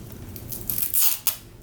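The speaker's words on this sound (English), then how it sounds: "we're going to cut a 2-inch piece of Velcro" Scissors cutting a 2-inch strip of Velcro at close range, a short crunchy rasp of blades through fabric with a crisp snip near the end.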